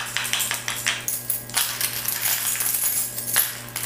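Metal keys scratching and jingling against an iPod in a rubbery iWrap protective case, a close, continuous clattering scrape with bright metallic clinks and no talk.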